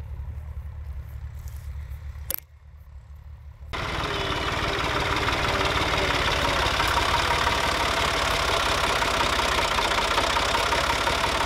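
A tractor engine idles on a farm field, a loud, steady low rumble with a slight knocking pulse that runs on unbroken after a brief quieter stretch at the start.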